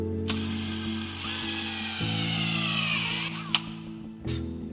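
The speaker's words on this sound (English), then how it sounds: "you need a nice drill bit like that one. And you just drill a big hole dead center." A drill bores a big hole dead center through a bump stop, a steady whining grind lasting a few seconds with faint knocks at the start and end.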